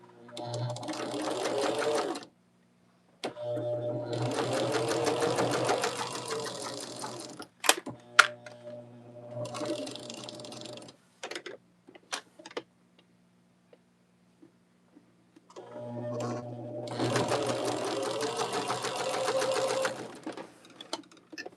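A sewing machine stitches quilt block pieces in several bursts: a few seconds of rapid mechanical whirring, a pause with scattered clicks and handling noises, then more runs, the last one long. Close by, moderately quiet, with no talking.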